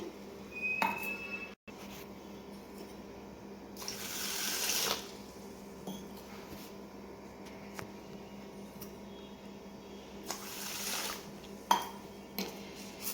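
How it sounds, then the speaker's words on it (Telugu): Urad dal and grains, rinsed for ragi dosa batter, swish and clink in water inside a metal vessel, with soft sloshing and a few louder splashy bursts near the start, middle and end. "ఇప్పుడు ఇవన్నీ నీట్గా కడుక్కోవాలి."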